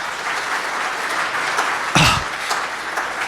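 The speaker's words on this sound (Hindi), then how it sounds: "तो एक बार जोरदार तालियां बजाइए।" An audience at a Hindi poetry gathering (kavi sammelan) applauds steadily, dense clapping at a moderate distance, with a slightly louder burst midway.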